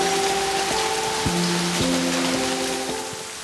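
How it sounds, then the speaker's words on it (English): Heavy rain pouring steadily outside an abandoned Japanese love hotel, a constant dense hiss of drops on surfaces with no voices, holding loud before easing slightly at the very end. "The moment you think the rain is slowing down, it just gets worse and worse."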